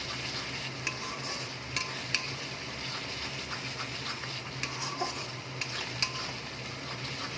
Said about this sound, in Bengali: তেল পুরো ছেড়ে দিলে মশলাটা পুরো কষানো হয়ে যাবে